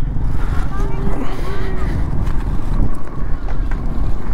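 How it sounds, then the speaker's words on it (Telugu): Cool wind buffets the microphone by the water at a lake with boating, making a steady, loud, low rumble with gusty swells throughout. "చల్ల గాలి పెడుతుంది"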